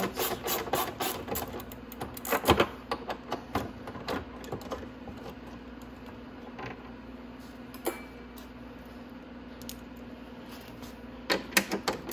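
Ratchet wrench loosening 10 mm bolts on a Venom 125cc motorcycle during carburetor installation, sporadic creaking clicks and metallic clatters close by, in short uneven bursts separated by quieter pauses over a low steady hum.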